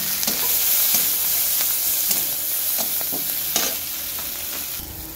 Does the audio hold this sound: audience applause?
no